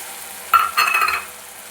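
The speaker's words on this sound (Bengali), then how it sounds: "আমি পুরো মশলাটা হালকা আঁচে করে নিচ্ছি" Ghugni spice masala with tomato paste frying on low heat, a short stir and soft sizzle in the pan lasting under a second, close and alone.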